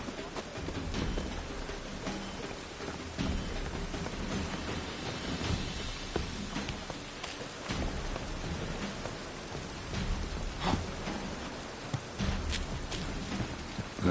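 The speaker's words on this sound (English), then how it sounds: "Looks like rain." Steady rain in the video game The Witcher 3, a dense, continuous hiss of falling drops with occasional louder spatters and a faint low rumble underneath, loud and unbroken throughout with no voices.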